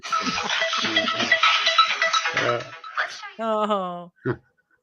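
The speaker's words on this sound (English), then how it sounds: "Somebody's phone is ringing." A mobile phone ringtone sounds near the end with a short stacked-tone electronic melody, after a stretch of busy overlapping chatter and clatter, then stops abruptly.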